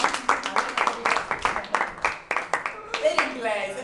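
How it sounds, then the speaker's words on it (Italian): Crowd clapping at an end-of-high-school speech ceremony, sharp irregular claps at close range mixed with voices of people talking over them. "riconosciamo con un grande e caloroso applauso"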